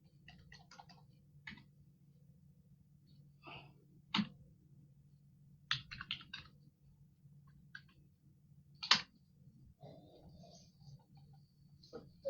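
Keys clicking on a computer keyboard that is malfunctioning and pressing buttons on its own, scattered irregular taps with a few sharper clicks over a steady low hum, fairly faint, no talking.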